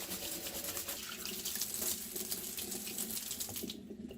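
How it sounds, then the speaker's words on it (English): Water runs from a kitchen tap while hands are washed before baking, a steady splashing hiss with small rubbing variations, fairly quiet and close, ending abruptly. "Just wash hands to start with."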